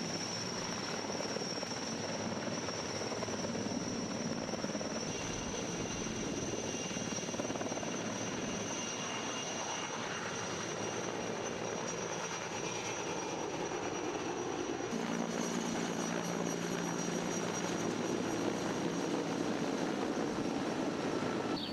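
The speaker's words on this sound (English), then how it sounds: "there's helicopters, a large helicopter, and some Type 3 lighter helicopters hitting hot spots" Helicopters fighting a wildfire in Arizona drone continuously at a distance for a long stretch, a steady whirring rotor hum that rises slightly in intensity toward the end.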